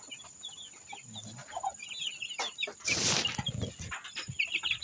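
Rhode Island Red chickens in a small backyard pen cluck and murmur softly nearby, with a brief burst of wing flapping in the middle and scattered scratching sounds.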